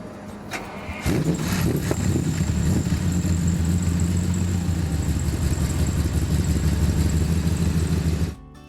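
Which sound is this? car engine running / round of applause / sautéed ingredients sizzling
car engine running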